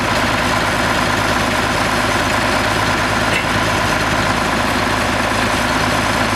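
An original 3388 tractor engine runs steadily as the machine rolls in, a loud, continuous low rumble with no talking.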